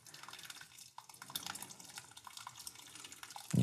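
Hot sparge water is poured into a mash tun while brewing hefeweizen, a quiet, steady trickle and splash of liquid with scattered drips, ending in a louder knock.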